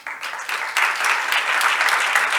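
An audience at a cancer research conference applauds after a talk, a dense, steady clapping that swells after the first moment and holds close and loud throughout.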